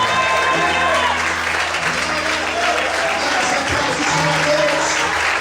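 A church congregation claps steadily and loudly throughout, with voices and music-like tones blending underneath the sustained applause.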